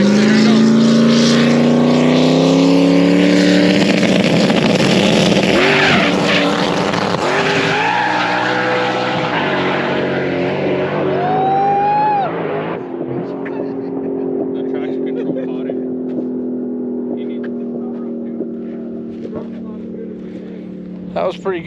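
A drag race car makes a test pass at the track, its engine roaring loud and near with rising pitch through the gear changes and some tire spin at launch. The car then fades into the distance while people talk nearby.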